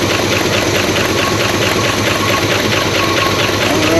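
An old diesel engine idles steadily after sitting unused for 17 years, giving a loud, close, continuous rumbling chug with a rapid even knock throughout and no talk.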